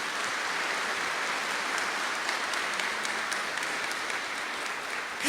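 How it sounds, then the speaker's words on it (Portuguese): A church congregation applauds steadily throughout, a dense and even wash of many hands clapping at a fairly constant level, with no voices standing out. "Aplaude sem eu pedir, aplaude sem eu pedir."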